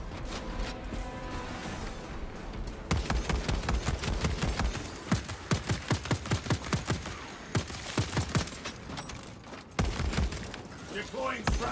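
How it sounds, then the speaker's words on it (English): A video game battle: rapid volleys of gunfire crackle in dense, rhythmic bursts over a constant backdrop of combat noise. "Readying next volley."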